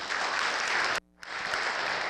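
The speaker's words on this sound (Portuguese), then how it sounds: "Salva de palmas." An audience applauds at a Portuguese-language public-speaking talk: dense, steady clapping that cuts off abruptly for a brief gap and then resumes just as full.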